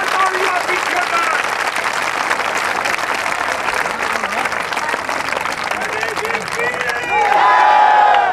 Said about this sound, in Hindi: जोरदार जोरदार जोरदार जोरदार तालियां पीछे कर।